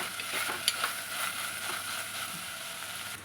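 Onions sautéing in a pan for egg kurma curry, a steady close sizzle broken by a few scraping stirs, with no voices.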